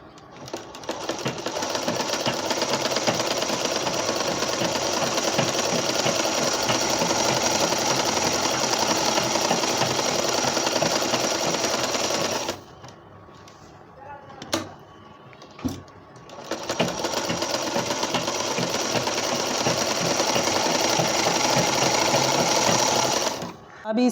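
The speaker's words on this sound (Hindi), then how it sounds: "पाव इंच की दूरी पर सिलाई ये गोलाई पर लगाएंगे।" A sewing machine runs steadily and loudly, stitching along the curved edge of a baby cap, then pauses briefly midway with a few clicks before resuming its continuous whirr.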